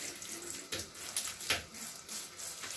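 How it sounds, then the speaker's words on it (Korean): Water sprayed like a shower over the leaves of five potted yew trees after repotting, a soft, faint hiss with a few brief splashy bursts, heard alone. "잎사귀를 이렇게 물을 줍니다. 그러면서 샤워하듯이 다 닦아냅니다."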